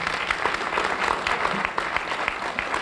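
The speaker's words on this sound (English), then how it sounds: "Let's give them a round of applause." An audience at a Women's History Month celebration applauding honorees, sustained dense clapping from a crowd in a hall, with faint voices mixed in.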